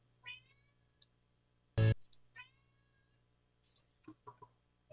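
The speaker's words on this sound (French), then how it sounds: "mon chat qui miaule" A house cat meows a few times nearby in a quiet room, with short drawn-out calls spread across the moment and a brief loud click or knock in between.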